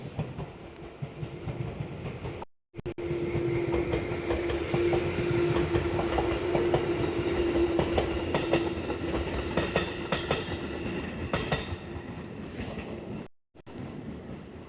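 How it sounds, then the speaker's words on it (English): A train rolls past on rail tracks near a quiet rural road by a hot spring town in Gunma, Japan, its steady rumble and clickety-clack of wheels loud and sustained for over ten seconds before fading. "Oh, here comes a train."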